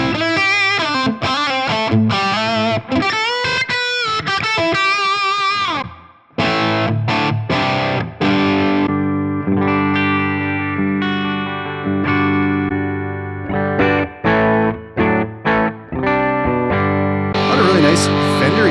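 Electric guitar played through a modelled 30th anniversary Marshall 68100 anniversary edition amp, loud distorted chords and riffs with sustained notes, a brief pause midway, then more chugging, choppy phrases.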